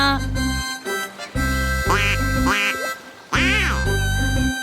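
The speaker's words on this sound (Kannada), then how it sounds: "ಚೂಚು ಮತ್ತೆ ಅಮ್ಮ ಮಲಾಡ್ ಡಕ್ನ ನೋಡಿ ಖುಷಿ ಪಟ್ರು" Cartoon mallard duck quacking in a repeated series of loud, nasal calls, several short quacks with a few drawn-out ones, set against a steady musical background.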